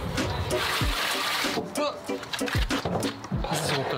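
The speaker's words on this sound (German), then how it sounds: "Machen wir jetzt das Ding mal voll mit Wasser." Water splashing and gurgling as a barrel is filled on a homemade houseboat raft, in irregular sloshing bursts close to the microphone.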